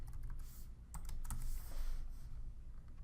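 Typing on a computer keyboard to enter a supplier's name, a quick run of close, light key clicks over a steady low hum, with no voices.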